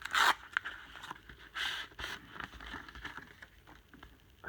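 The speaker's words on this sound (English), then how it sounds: "rip this open maybe." A very thick mailed envelope is cut into and ripped open, giving a sharp tearing burst at the start followed by a few more rustling, scraping tears of paper, close up with no talking.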